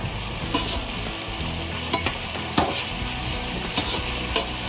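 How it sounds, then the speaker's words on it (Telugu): Sliced onions frying in a pan with salt, a steady close sizzle with a few sharp clinks of stirring at irregular intervals, no voices. "సాల్ట్ వేసుకుంటే ఆనియన్స్ త్వరగా ఫ్రై అయిపోతాయి."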